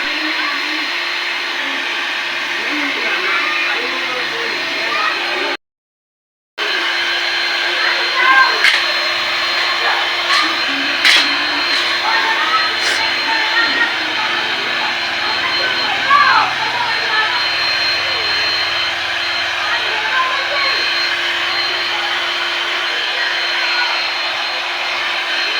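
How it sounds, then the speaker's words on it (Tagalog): A hot air blower runs steadily while drying small window-type air conditioners and their wiring during cleaning, a constant loud whirring roar with a brief cut-out, faint clicks and handling noises over it, and a voice in the background. "nagdadala po talaga kami ng blower or hot air blower para makakasiguro kami na tuyong-tuyo po yung aircon or mga wirings ng aircon"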